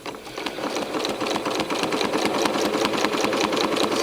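A sewing machine runs continuously at a steady fast rhythm during free-motion quilting, its needle chattering loud and close in an even, rapid pulse.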